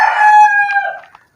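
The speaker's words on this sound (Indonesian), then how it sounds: "Sorry ada ayam." A rooster crows once, close and clear, a single drawn-out cock-a-doodle-doo that trails off into quiet within about a second, with no talk over it.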